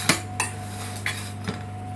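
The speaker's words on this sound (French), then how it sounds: "je vais vous en mettre un morceau dans l'assiette" A piece of cooked butternut squash is served onto a plate, with four light clinks of cutlery and crockery spaced across a quiet moment over a faint hum.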